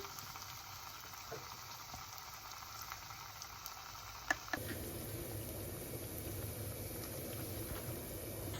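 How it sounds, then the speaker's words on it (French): Vada, a fried Indian savoury snack, goes into hot oil in a pan. A steady close hiss and crackle starts, then swells abruptly into a louder, denser bubbling sizzle that runs on without talk. "Maintenant, faire frire le vada dans l'huile et ajouter le vada dans le poêle."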